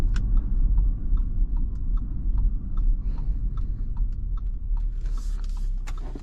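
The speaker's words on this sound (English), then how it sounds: "And noise in the back, that's the little cargo cover," The cargo cover in the back of a 2023 Audi Q7 55 Premium Plus rattles during a drive, a rapid irregular ticking and clattering over the steady low road and engine rumble inside the cabin.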